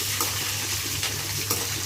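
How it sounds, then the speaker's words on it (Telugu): Curry leaves frying in hot oil for lemon rice, a steady close sizzle with a few soft stirring scrapes and pops, without talk. "ఇప్పుడు కరివేపాకు కూడా ఫ్రై అయ్యేదాకా వేయించండి."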